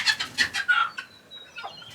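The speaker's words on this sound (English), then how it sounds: "A broody hen." A broody hen clucks in a quick series of soft, close calls, then trails off into a quieter murmur.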